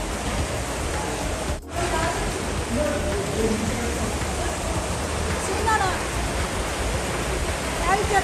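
A garden stream in Achabal flows with a constant, even rushing of water, steady and fairly close, with one brief dip in the middle and no talking over it.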